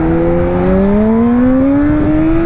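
A Kawasaki Ninja H2 SX motorcycle engine whines close up while riding, its loud tone climbing smoothly as the bike accelerates over a couple of seconds.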